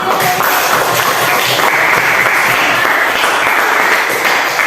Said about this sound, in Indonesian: baiklah kita beri tepuk tangan